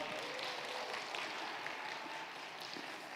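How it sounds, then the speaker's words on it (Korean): Audience applause following the opening performance at the 2021 Gyeonggi-do innovative education academic conference, a steady, faint wash of many hands clapping that carries through without any voices. "다시 한번 큰 박수 부탁드립니다."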